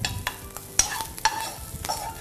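Pastırma sizzles gently in a pan with butter while a utensil stirs and scrapes it, giving irregular clacks over a soft frying hiss, close and without talk.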